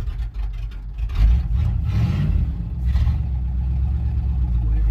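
A 1967 Dodge with an old three-speed runs on its first drive in over 20 years, a low steady engine rumble with a brief rev surge, close by and continuous.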